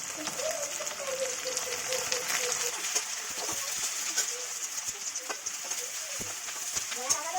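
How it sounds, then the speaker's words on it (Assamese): Onions fry in mustard oil in a wok, giving a steady close hiss and crackle with scattered pops throughout; a voice speaks softly over the sizzling. "তাত মই পিঁয়াজখিনি দি দিছোঁ আৰু পিঁয়াজখিনি অকণমান ৰঙচুৱাকৈ ভাজিব লাগিব"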